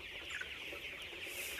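Chickens clucking inside a poultry farm shed in cold, bad weather, a dense continuous chorus of many birds, steady and moderately near, with no talking.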